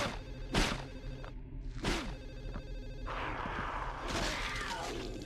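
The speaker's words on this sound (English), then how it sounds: "Between the frickin' phone ringing and the Slurpee sounds." A telephone rings repeatedly in Silent Hill 4: The Room, loud and close, with sharp ringing bursts over a dense, droning game soundscape.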